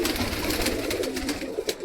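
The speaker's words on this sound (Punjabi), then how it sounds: "ਫੇਰ ਵੱਡੇ ਕਬੂਤਰ ਖੋਲਦੇ ਆਂ" Soft, repeated cooing of pigeons close by, a low warbling rhythm over a faint background.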